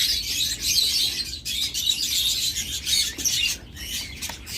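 King quail in a farm cage give off continuous high chirps and twittering with scattered rustling and wing flaps, busy and steady from start to finish with no talking.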